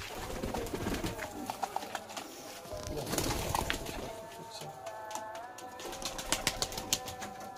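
Pigeons let out of a loft onto a rooftop, with soft cooing, scattered wing flaps and light pecking or stepping sounds, fairly close over quiet outdoor background.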